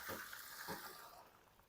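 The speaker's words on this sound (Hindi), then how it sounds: "अब मैं इसका पानी निकाल लूँगा और चावलों को अलग कर लूँगा।" Water is poured off boiled rice for an Afghani beef pulao, a soft, close splashing gush with a couple of sloshing pulses, fairly quiet and fading out.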